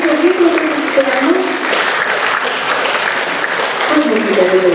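Applause from an audience at an accordion festival, steady clapping heard throughout, with a speaker's voice running over it.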